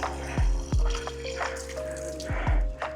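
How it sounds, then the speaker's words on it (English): Water is filled from a tap on a hiking trail in Madeira, heard as a steady close trickle with a few distinct drops and splashes falling into it. "Got to top up my water now."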